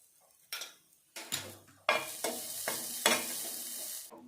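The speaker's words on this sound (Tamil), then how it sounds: "துருவண தேங்காயை கொஞ்சம் லேசாக கொஞ்சம் எண்ணெய் விட்டு வதக்கிங்க" Grated coconut is sautéed in a little oil for peanut chutney, heard as quiet bursts of sizzling with spoon or spatula stirring scrapes in a pan, separated by short pauses, with no voices.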